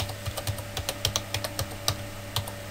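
Rapid, irregular keystrokes on a computer keyboard as dummy numbers are typed into a PHP and MySQL form, close and fairly quiet, with no talking over a steady background hum.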